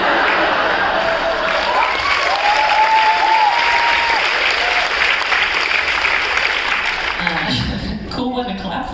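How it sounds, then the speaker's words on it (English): Audience clapping and some cheering at a comedy set, loud sustained applause from a crowd with whoops rising over it, tapering off as a voice starts speaking near the end. "Cool one to clap for."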